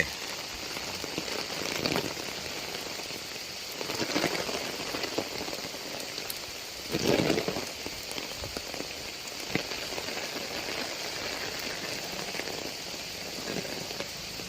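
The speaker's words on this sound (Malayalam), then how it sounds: "മഴ പെയ്തത് കാണിക്കാൻ വേണ്ടിയിട്ട് ഇറങ്ങിയതാ വീട്ടിൽ." Heavy monsoon-season rain pours down in the morning over a home and flooded paddy fields in Kozhikode, a dense, steady hiss of drops on surfaces with slight swells, and no voices.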